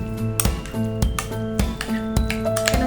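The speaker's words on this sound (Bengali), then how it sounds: "এবার আমরা এই সবগুলোকে ভালো করে একটু মিশিয়ে নিচ্ছি।" Shredded boiled chicken salad being mixed in a bowl with sour yogurt and mayonnaise, giving repeated utensil clinks and scrapes against the bowl in a steady rhythm, close and fairly loud.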